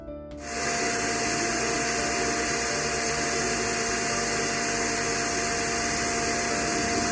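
A kitchen blender runs steadily on a cold milk and ice cream mixture, starting abruptly and then holding a loud, continuous whirring drone close by for several seconds with no talk.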